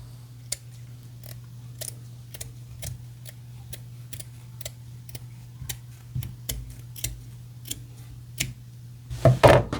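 Scissors snip through fur while a rustic winter mask is cut out: a steady run of crisp, quiet clicks over a low hum, growing louder and busier in the last second.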